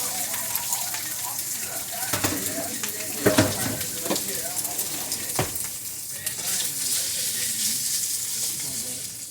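Italian sausage meat browning in preheated oil in a pot, a loud continuous sizzle and crackle with a few stirring clanks, under a speaking voice.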